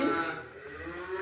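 A young Limousin calf, about six months old, moos in a cattle pen, one sustained low lowing call, close and clear over faint barn background.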